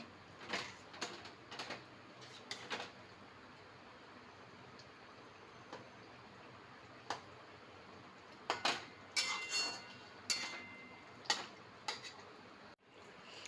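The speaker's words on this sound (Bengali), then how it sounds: "আমি একবার ভালোভাবে নাড়িয়ে দিচ্ছি" Ground spices stirred into shukto in a cooking pot, heard as scattered scraping and tapping clicks of a spoon against the pot, irregular and fairly close, with quiet gaps between strokes and no talking.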